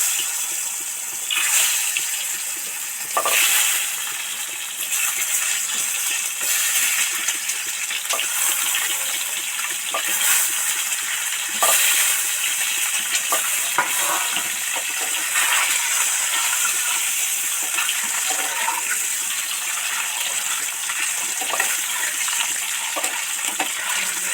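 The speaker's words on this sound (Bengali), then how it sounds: "এবার একটা একটা ডিম এই তেলের মধ্যে উঠিয়ে দেবো" Eggs fry in oil in a pan, a bright hissing sizzle that runs steadily with occasional crackles and utensil taps, close by and without speech.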